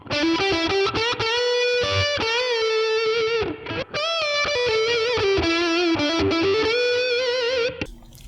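Distorted electric guitar through a Boss Katana amp, playing sustained chords and notes with heavy gain and a reverb tail, loud and continuous, ending abruptly.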